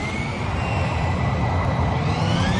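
A steady airplane engine roar holds at one level throughout with no breaks, a broad rushing drone with faint whining tones above it and no voices.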